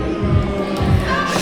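A wrestling crowd in Savannah roars during a wrestler's ring entrance, with loud, rhythmic pulses of cheering and low thumps repeating under the steady crowd noise.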